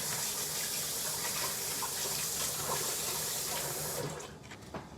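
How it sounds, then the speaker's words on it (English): Tap water runs steadily into a sink during handwashing, a broad, close hiss that holds for about four seconds before cutting off into a few drips and clatters. "While I wash my hands."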